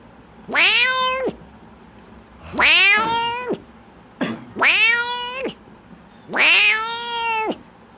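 A cat meows four times, each call loud, close and drawn out with a rising-then-falling whine, separated by short quiet gaps.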